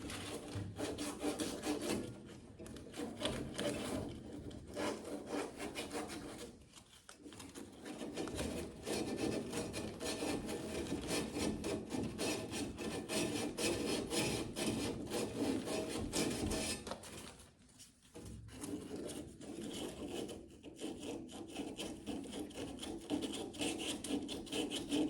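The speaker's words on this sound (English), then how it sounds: "I can use a piece of sandpaper to sand it" Sandpaper rubbing over the metal pilot assembly of a gas fireplace, a steady rasping scrape that runs nearly continuously with two brief pauses, close and fairly loud.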